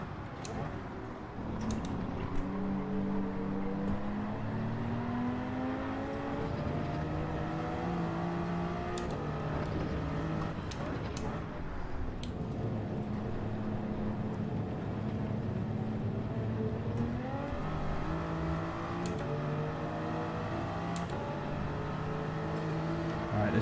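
A Porsche race car in GT7 at the Nurburgring at night drives loud and close, its engine repeatedly revving up and shifting through gears, with other cars nearby.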